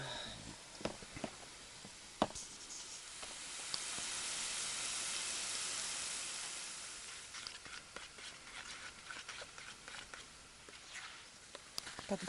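Food fries in a pan on an ice-fishing trip inside a tent, a soft, steady sizzle swelling gently in the middle, scattered with faint clicks and handling knocks.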